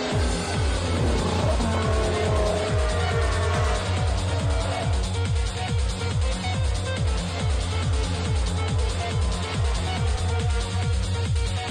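Car on the drive to a ski trip, a steady engine drone with rhythmic repeating thumps from the road, constant and close throughout with no pauses.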